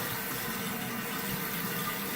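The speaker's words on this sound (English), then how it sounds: "So after we've emptied the tank, the water goes down to create the flush. Your fill valve then begins to fill." Water hissing steadily as a gravity-flush toilet tank refills through its fill valve, a continuous close rushing sound with no voices.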